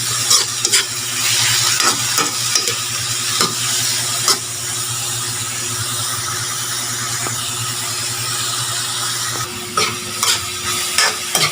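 Two eggs frying in a pan give a steady, close sizzle throughout, with scattered clicks and scraping taps from utensils over the crackle and no talking.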